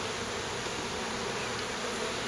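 A dense, steady drone of many honeybees buzzing around an open hive during an inspection, loud and continuous with no pauses and no talking.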